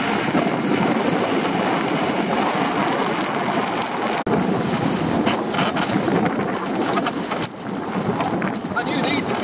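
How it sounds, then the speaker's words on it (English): Strong sea wind buffets the microphone on an exposed shoreline, a loud continuous roar with surf rumbling underneath, with no talking. "going to be a bit breezy as well around here"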